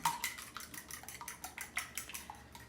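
Eggs beaten in a bowl for a three cheese corn casserole, a quick run of light, uneven clinks and taps of utensil against bowl, close and fairly quiet with no talking.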